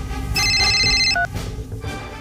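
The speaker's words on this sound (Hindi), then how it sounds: "चंद्र भैया, आपका फोन" A telephone rings loudly with a bright electronic warble for about a second, followed by a brief second tone, over a busy indoor background in a Bhojpuri drama scene.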